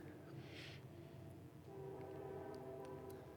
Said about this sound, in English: It's also so unnecessary to keep honking your horn like that